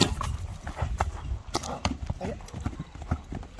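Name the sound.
young horse moving, hooves clopping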